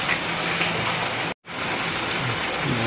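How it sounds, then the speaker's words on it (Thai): Heavy rain pours down at night in a steady, dense hiss that cuts out for a split second before resuming just as strong. "ฝนตก"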